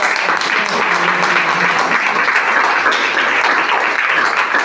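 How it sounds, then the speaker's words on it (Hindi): Loud audience applause at a lifestyle program gathering, a thick, continuous roar of many hands clapping at close range, steady and undiminished for nearly five seconds with no voice over it. "तो ऊपर वाले के लिए जोरदार तालियां होनी चाहिए।"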